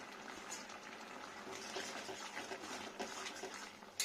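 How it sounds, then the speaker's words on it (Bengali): A pot of vegetable curry with potato, taro and malabar spinach stems bubbles at a steady boil, a continuous soft gurgling and hiss close by with no talk. "ফুটবে, তার জন্য আরো কিছুক্ষণ নাড়া দেবো আমি।"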